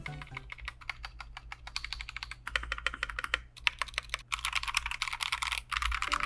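Typing on an Akko mechanical keyboard fitted with Akko Jelly switches, a close stream of rapid clacking keystrokes with a few short pauses and a denser burst near the end.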